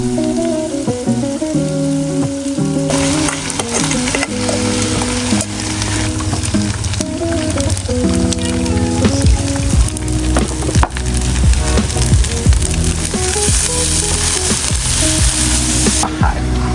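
Tom yum fried rice sizzling and being stirred in a pan at a campsite, steady loud frying with scraping and clinking of the utensil against the pan, close up, with some music or tonal background underneath.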